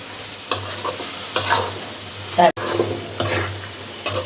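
A spatula stirring chicken egg chow mein with spices in a pan, repeated scraping strokes at irregular intervals over a soft sizzle, close and clear, with a brief knock midway.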